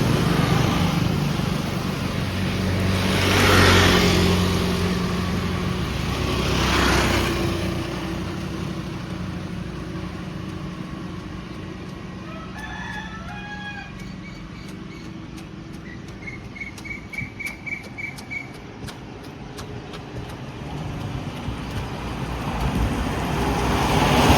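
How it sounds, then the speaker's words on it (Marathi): A vehicle approaches and rumbles past on a village road near farmland, swelling and fading, with birds chirping faintly afterward and a steady background hum. "रस्त्यावरून जरा गाडी जात आहे त्यामुळे डिस्टर्ब होतं"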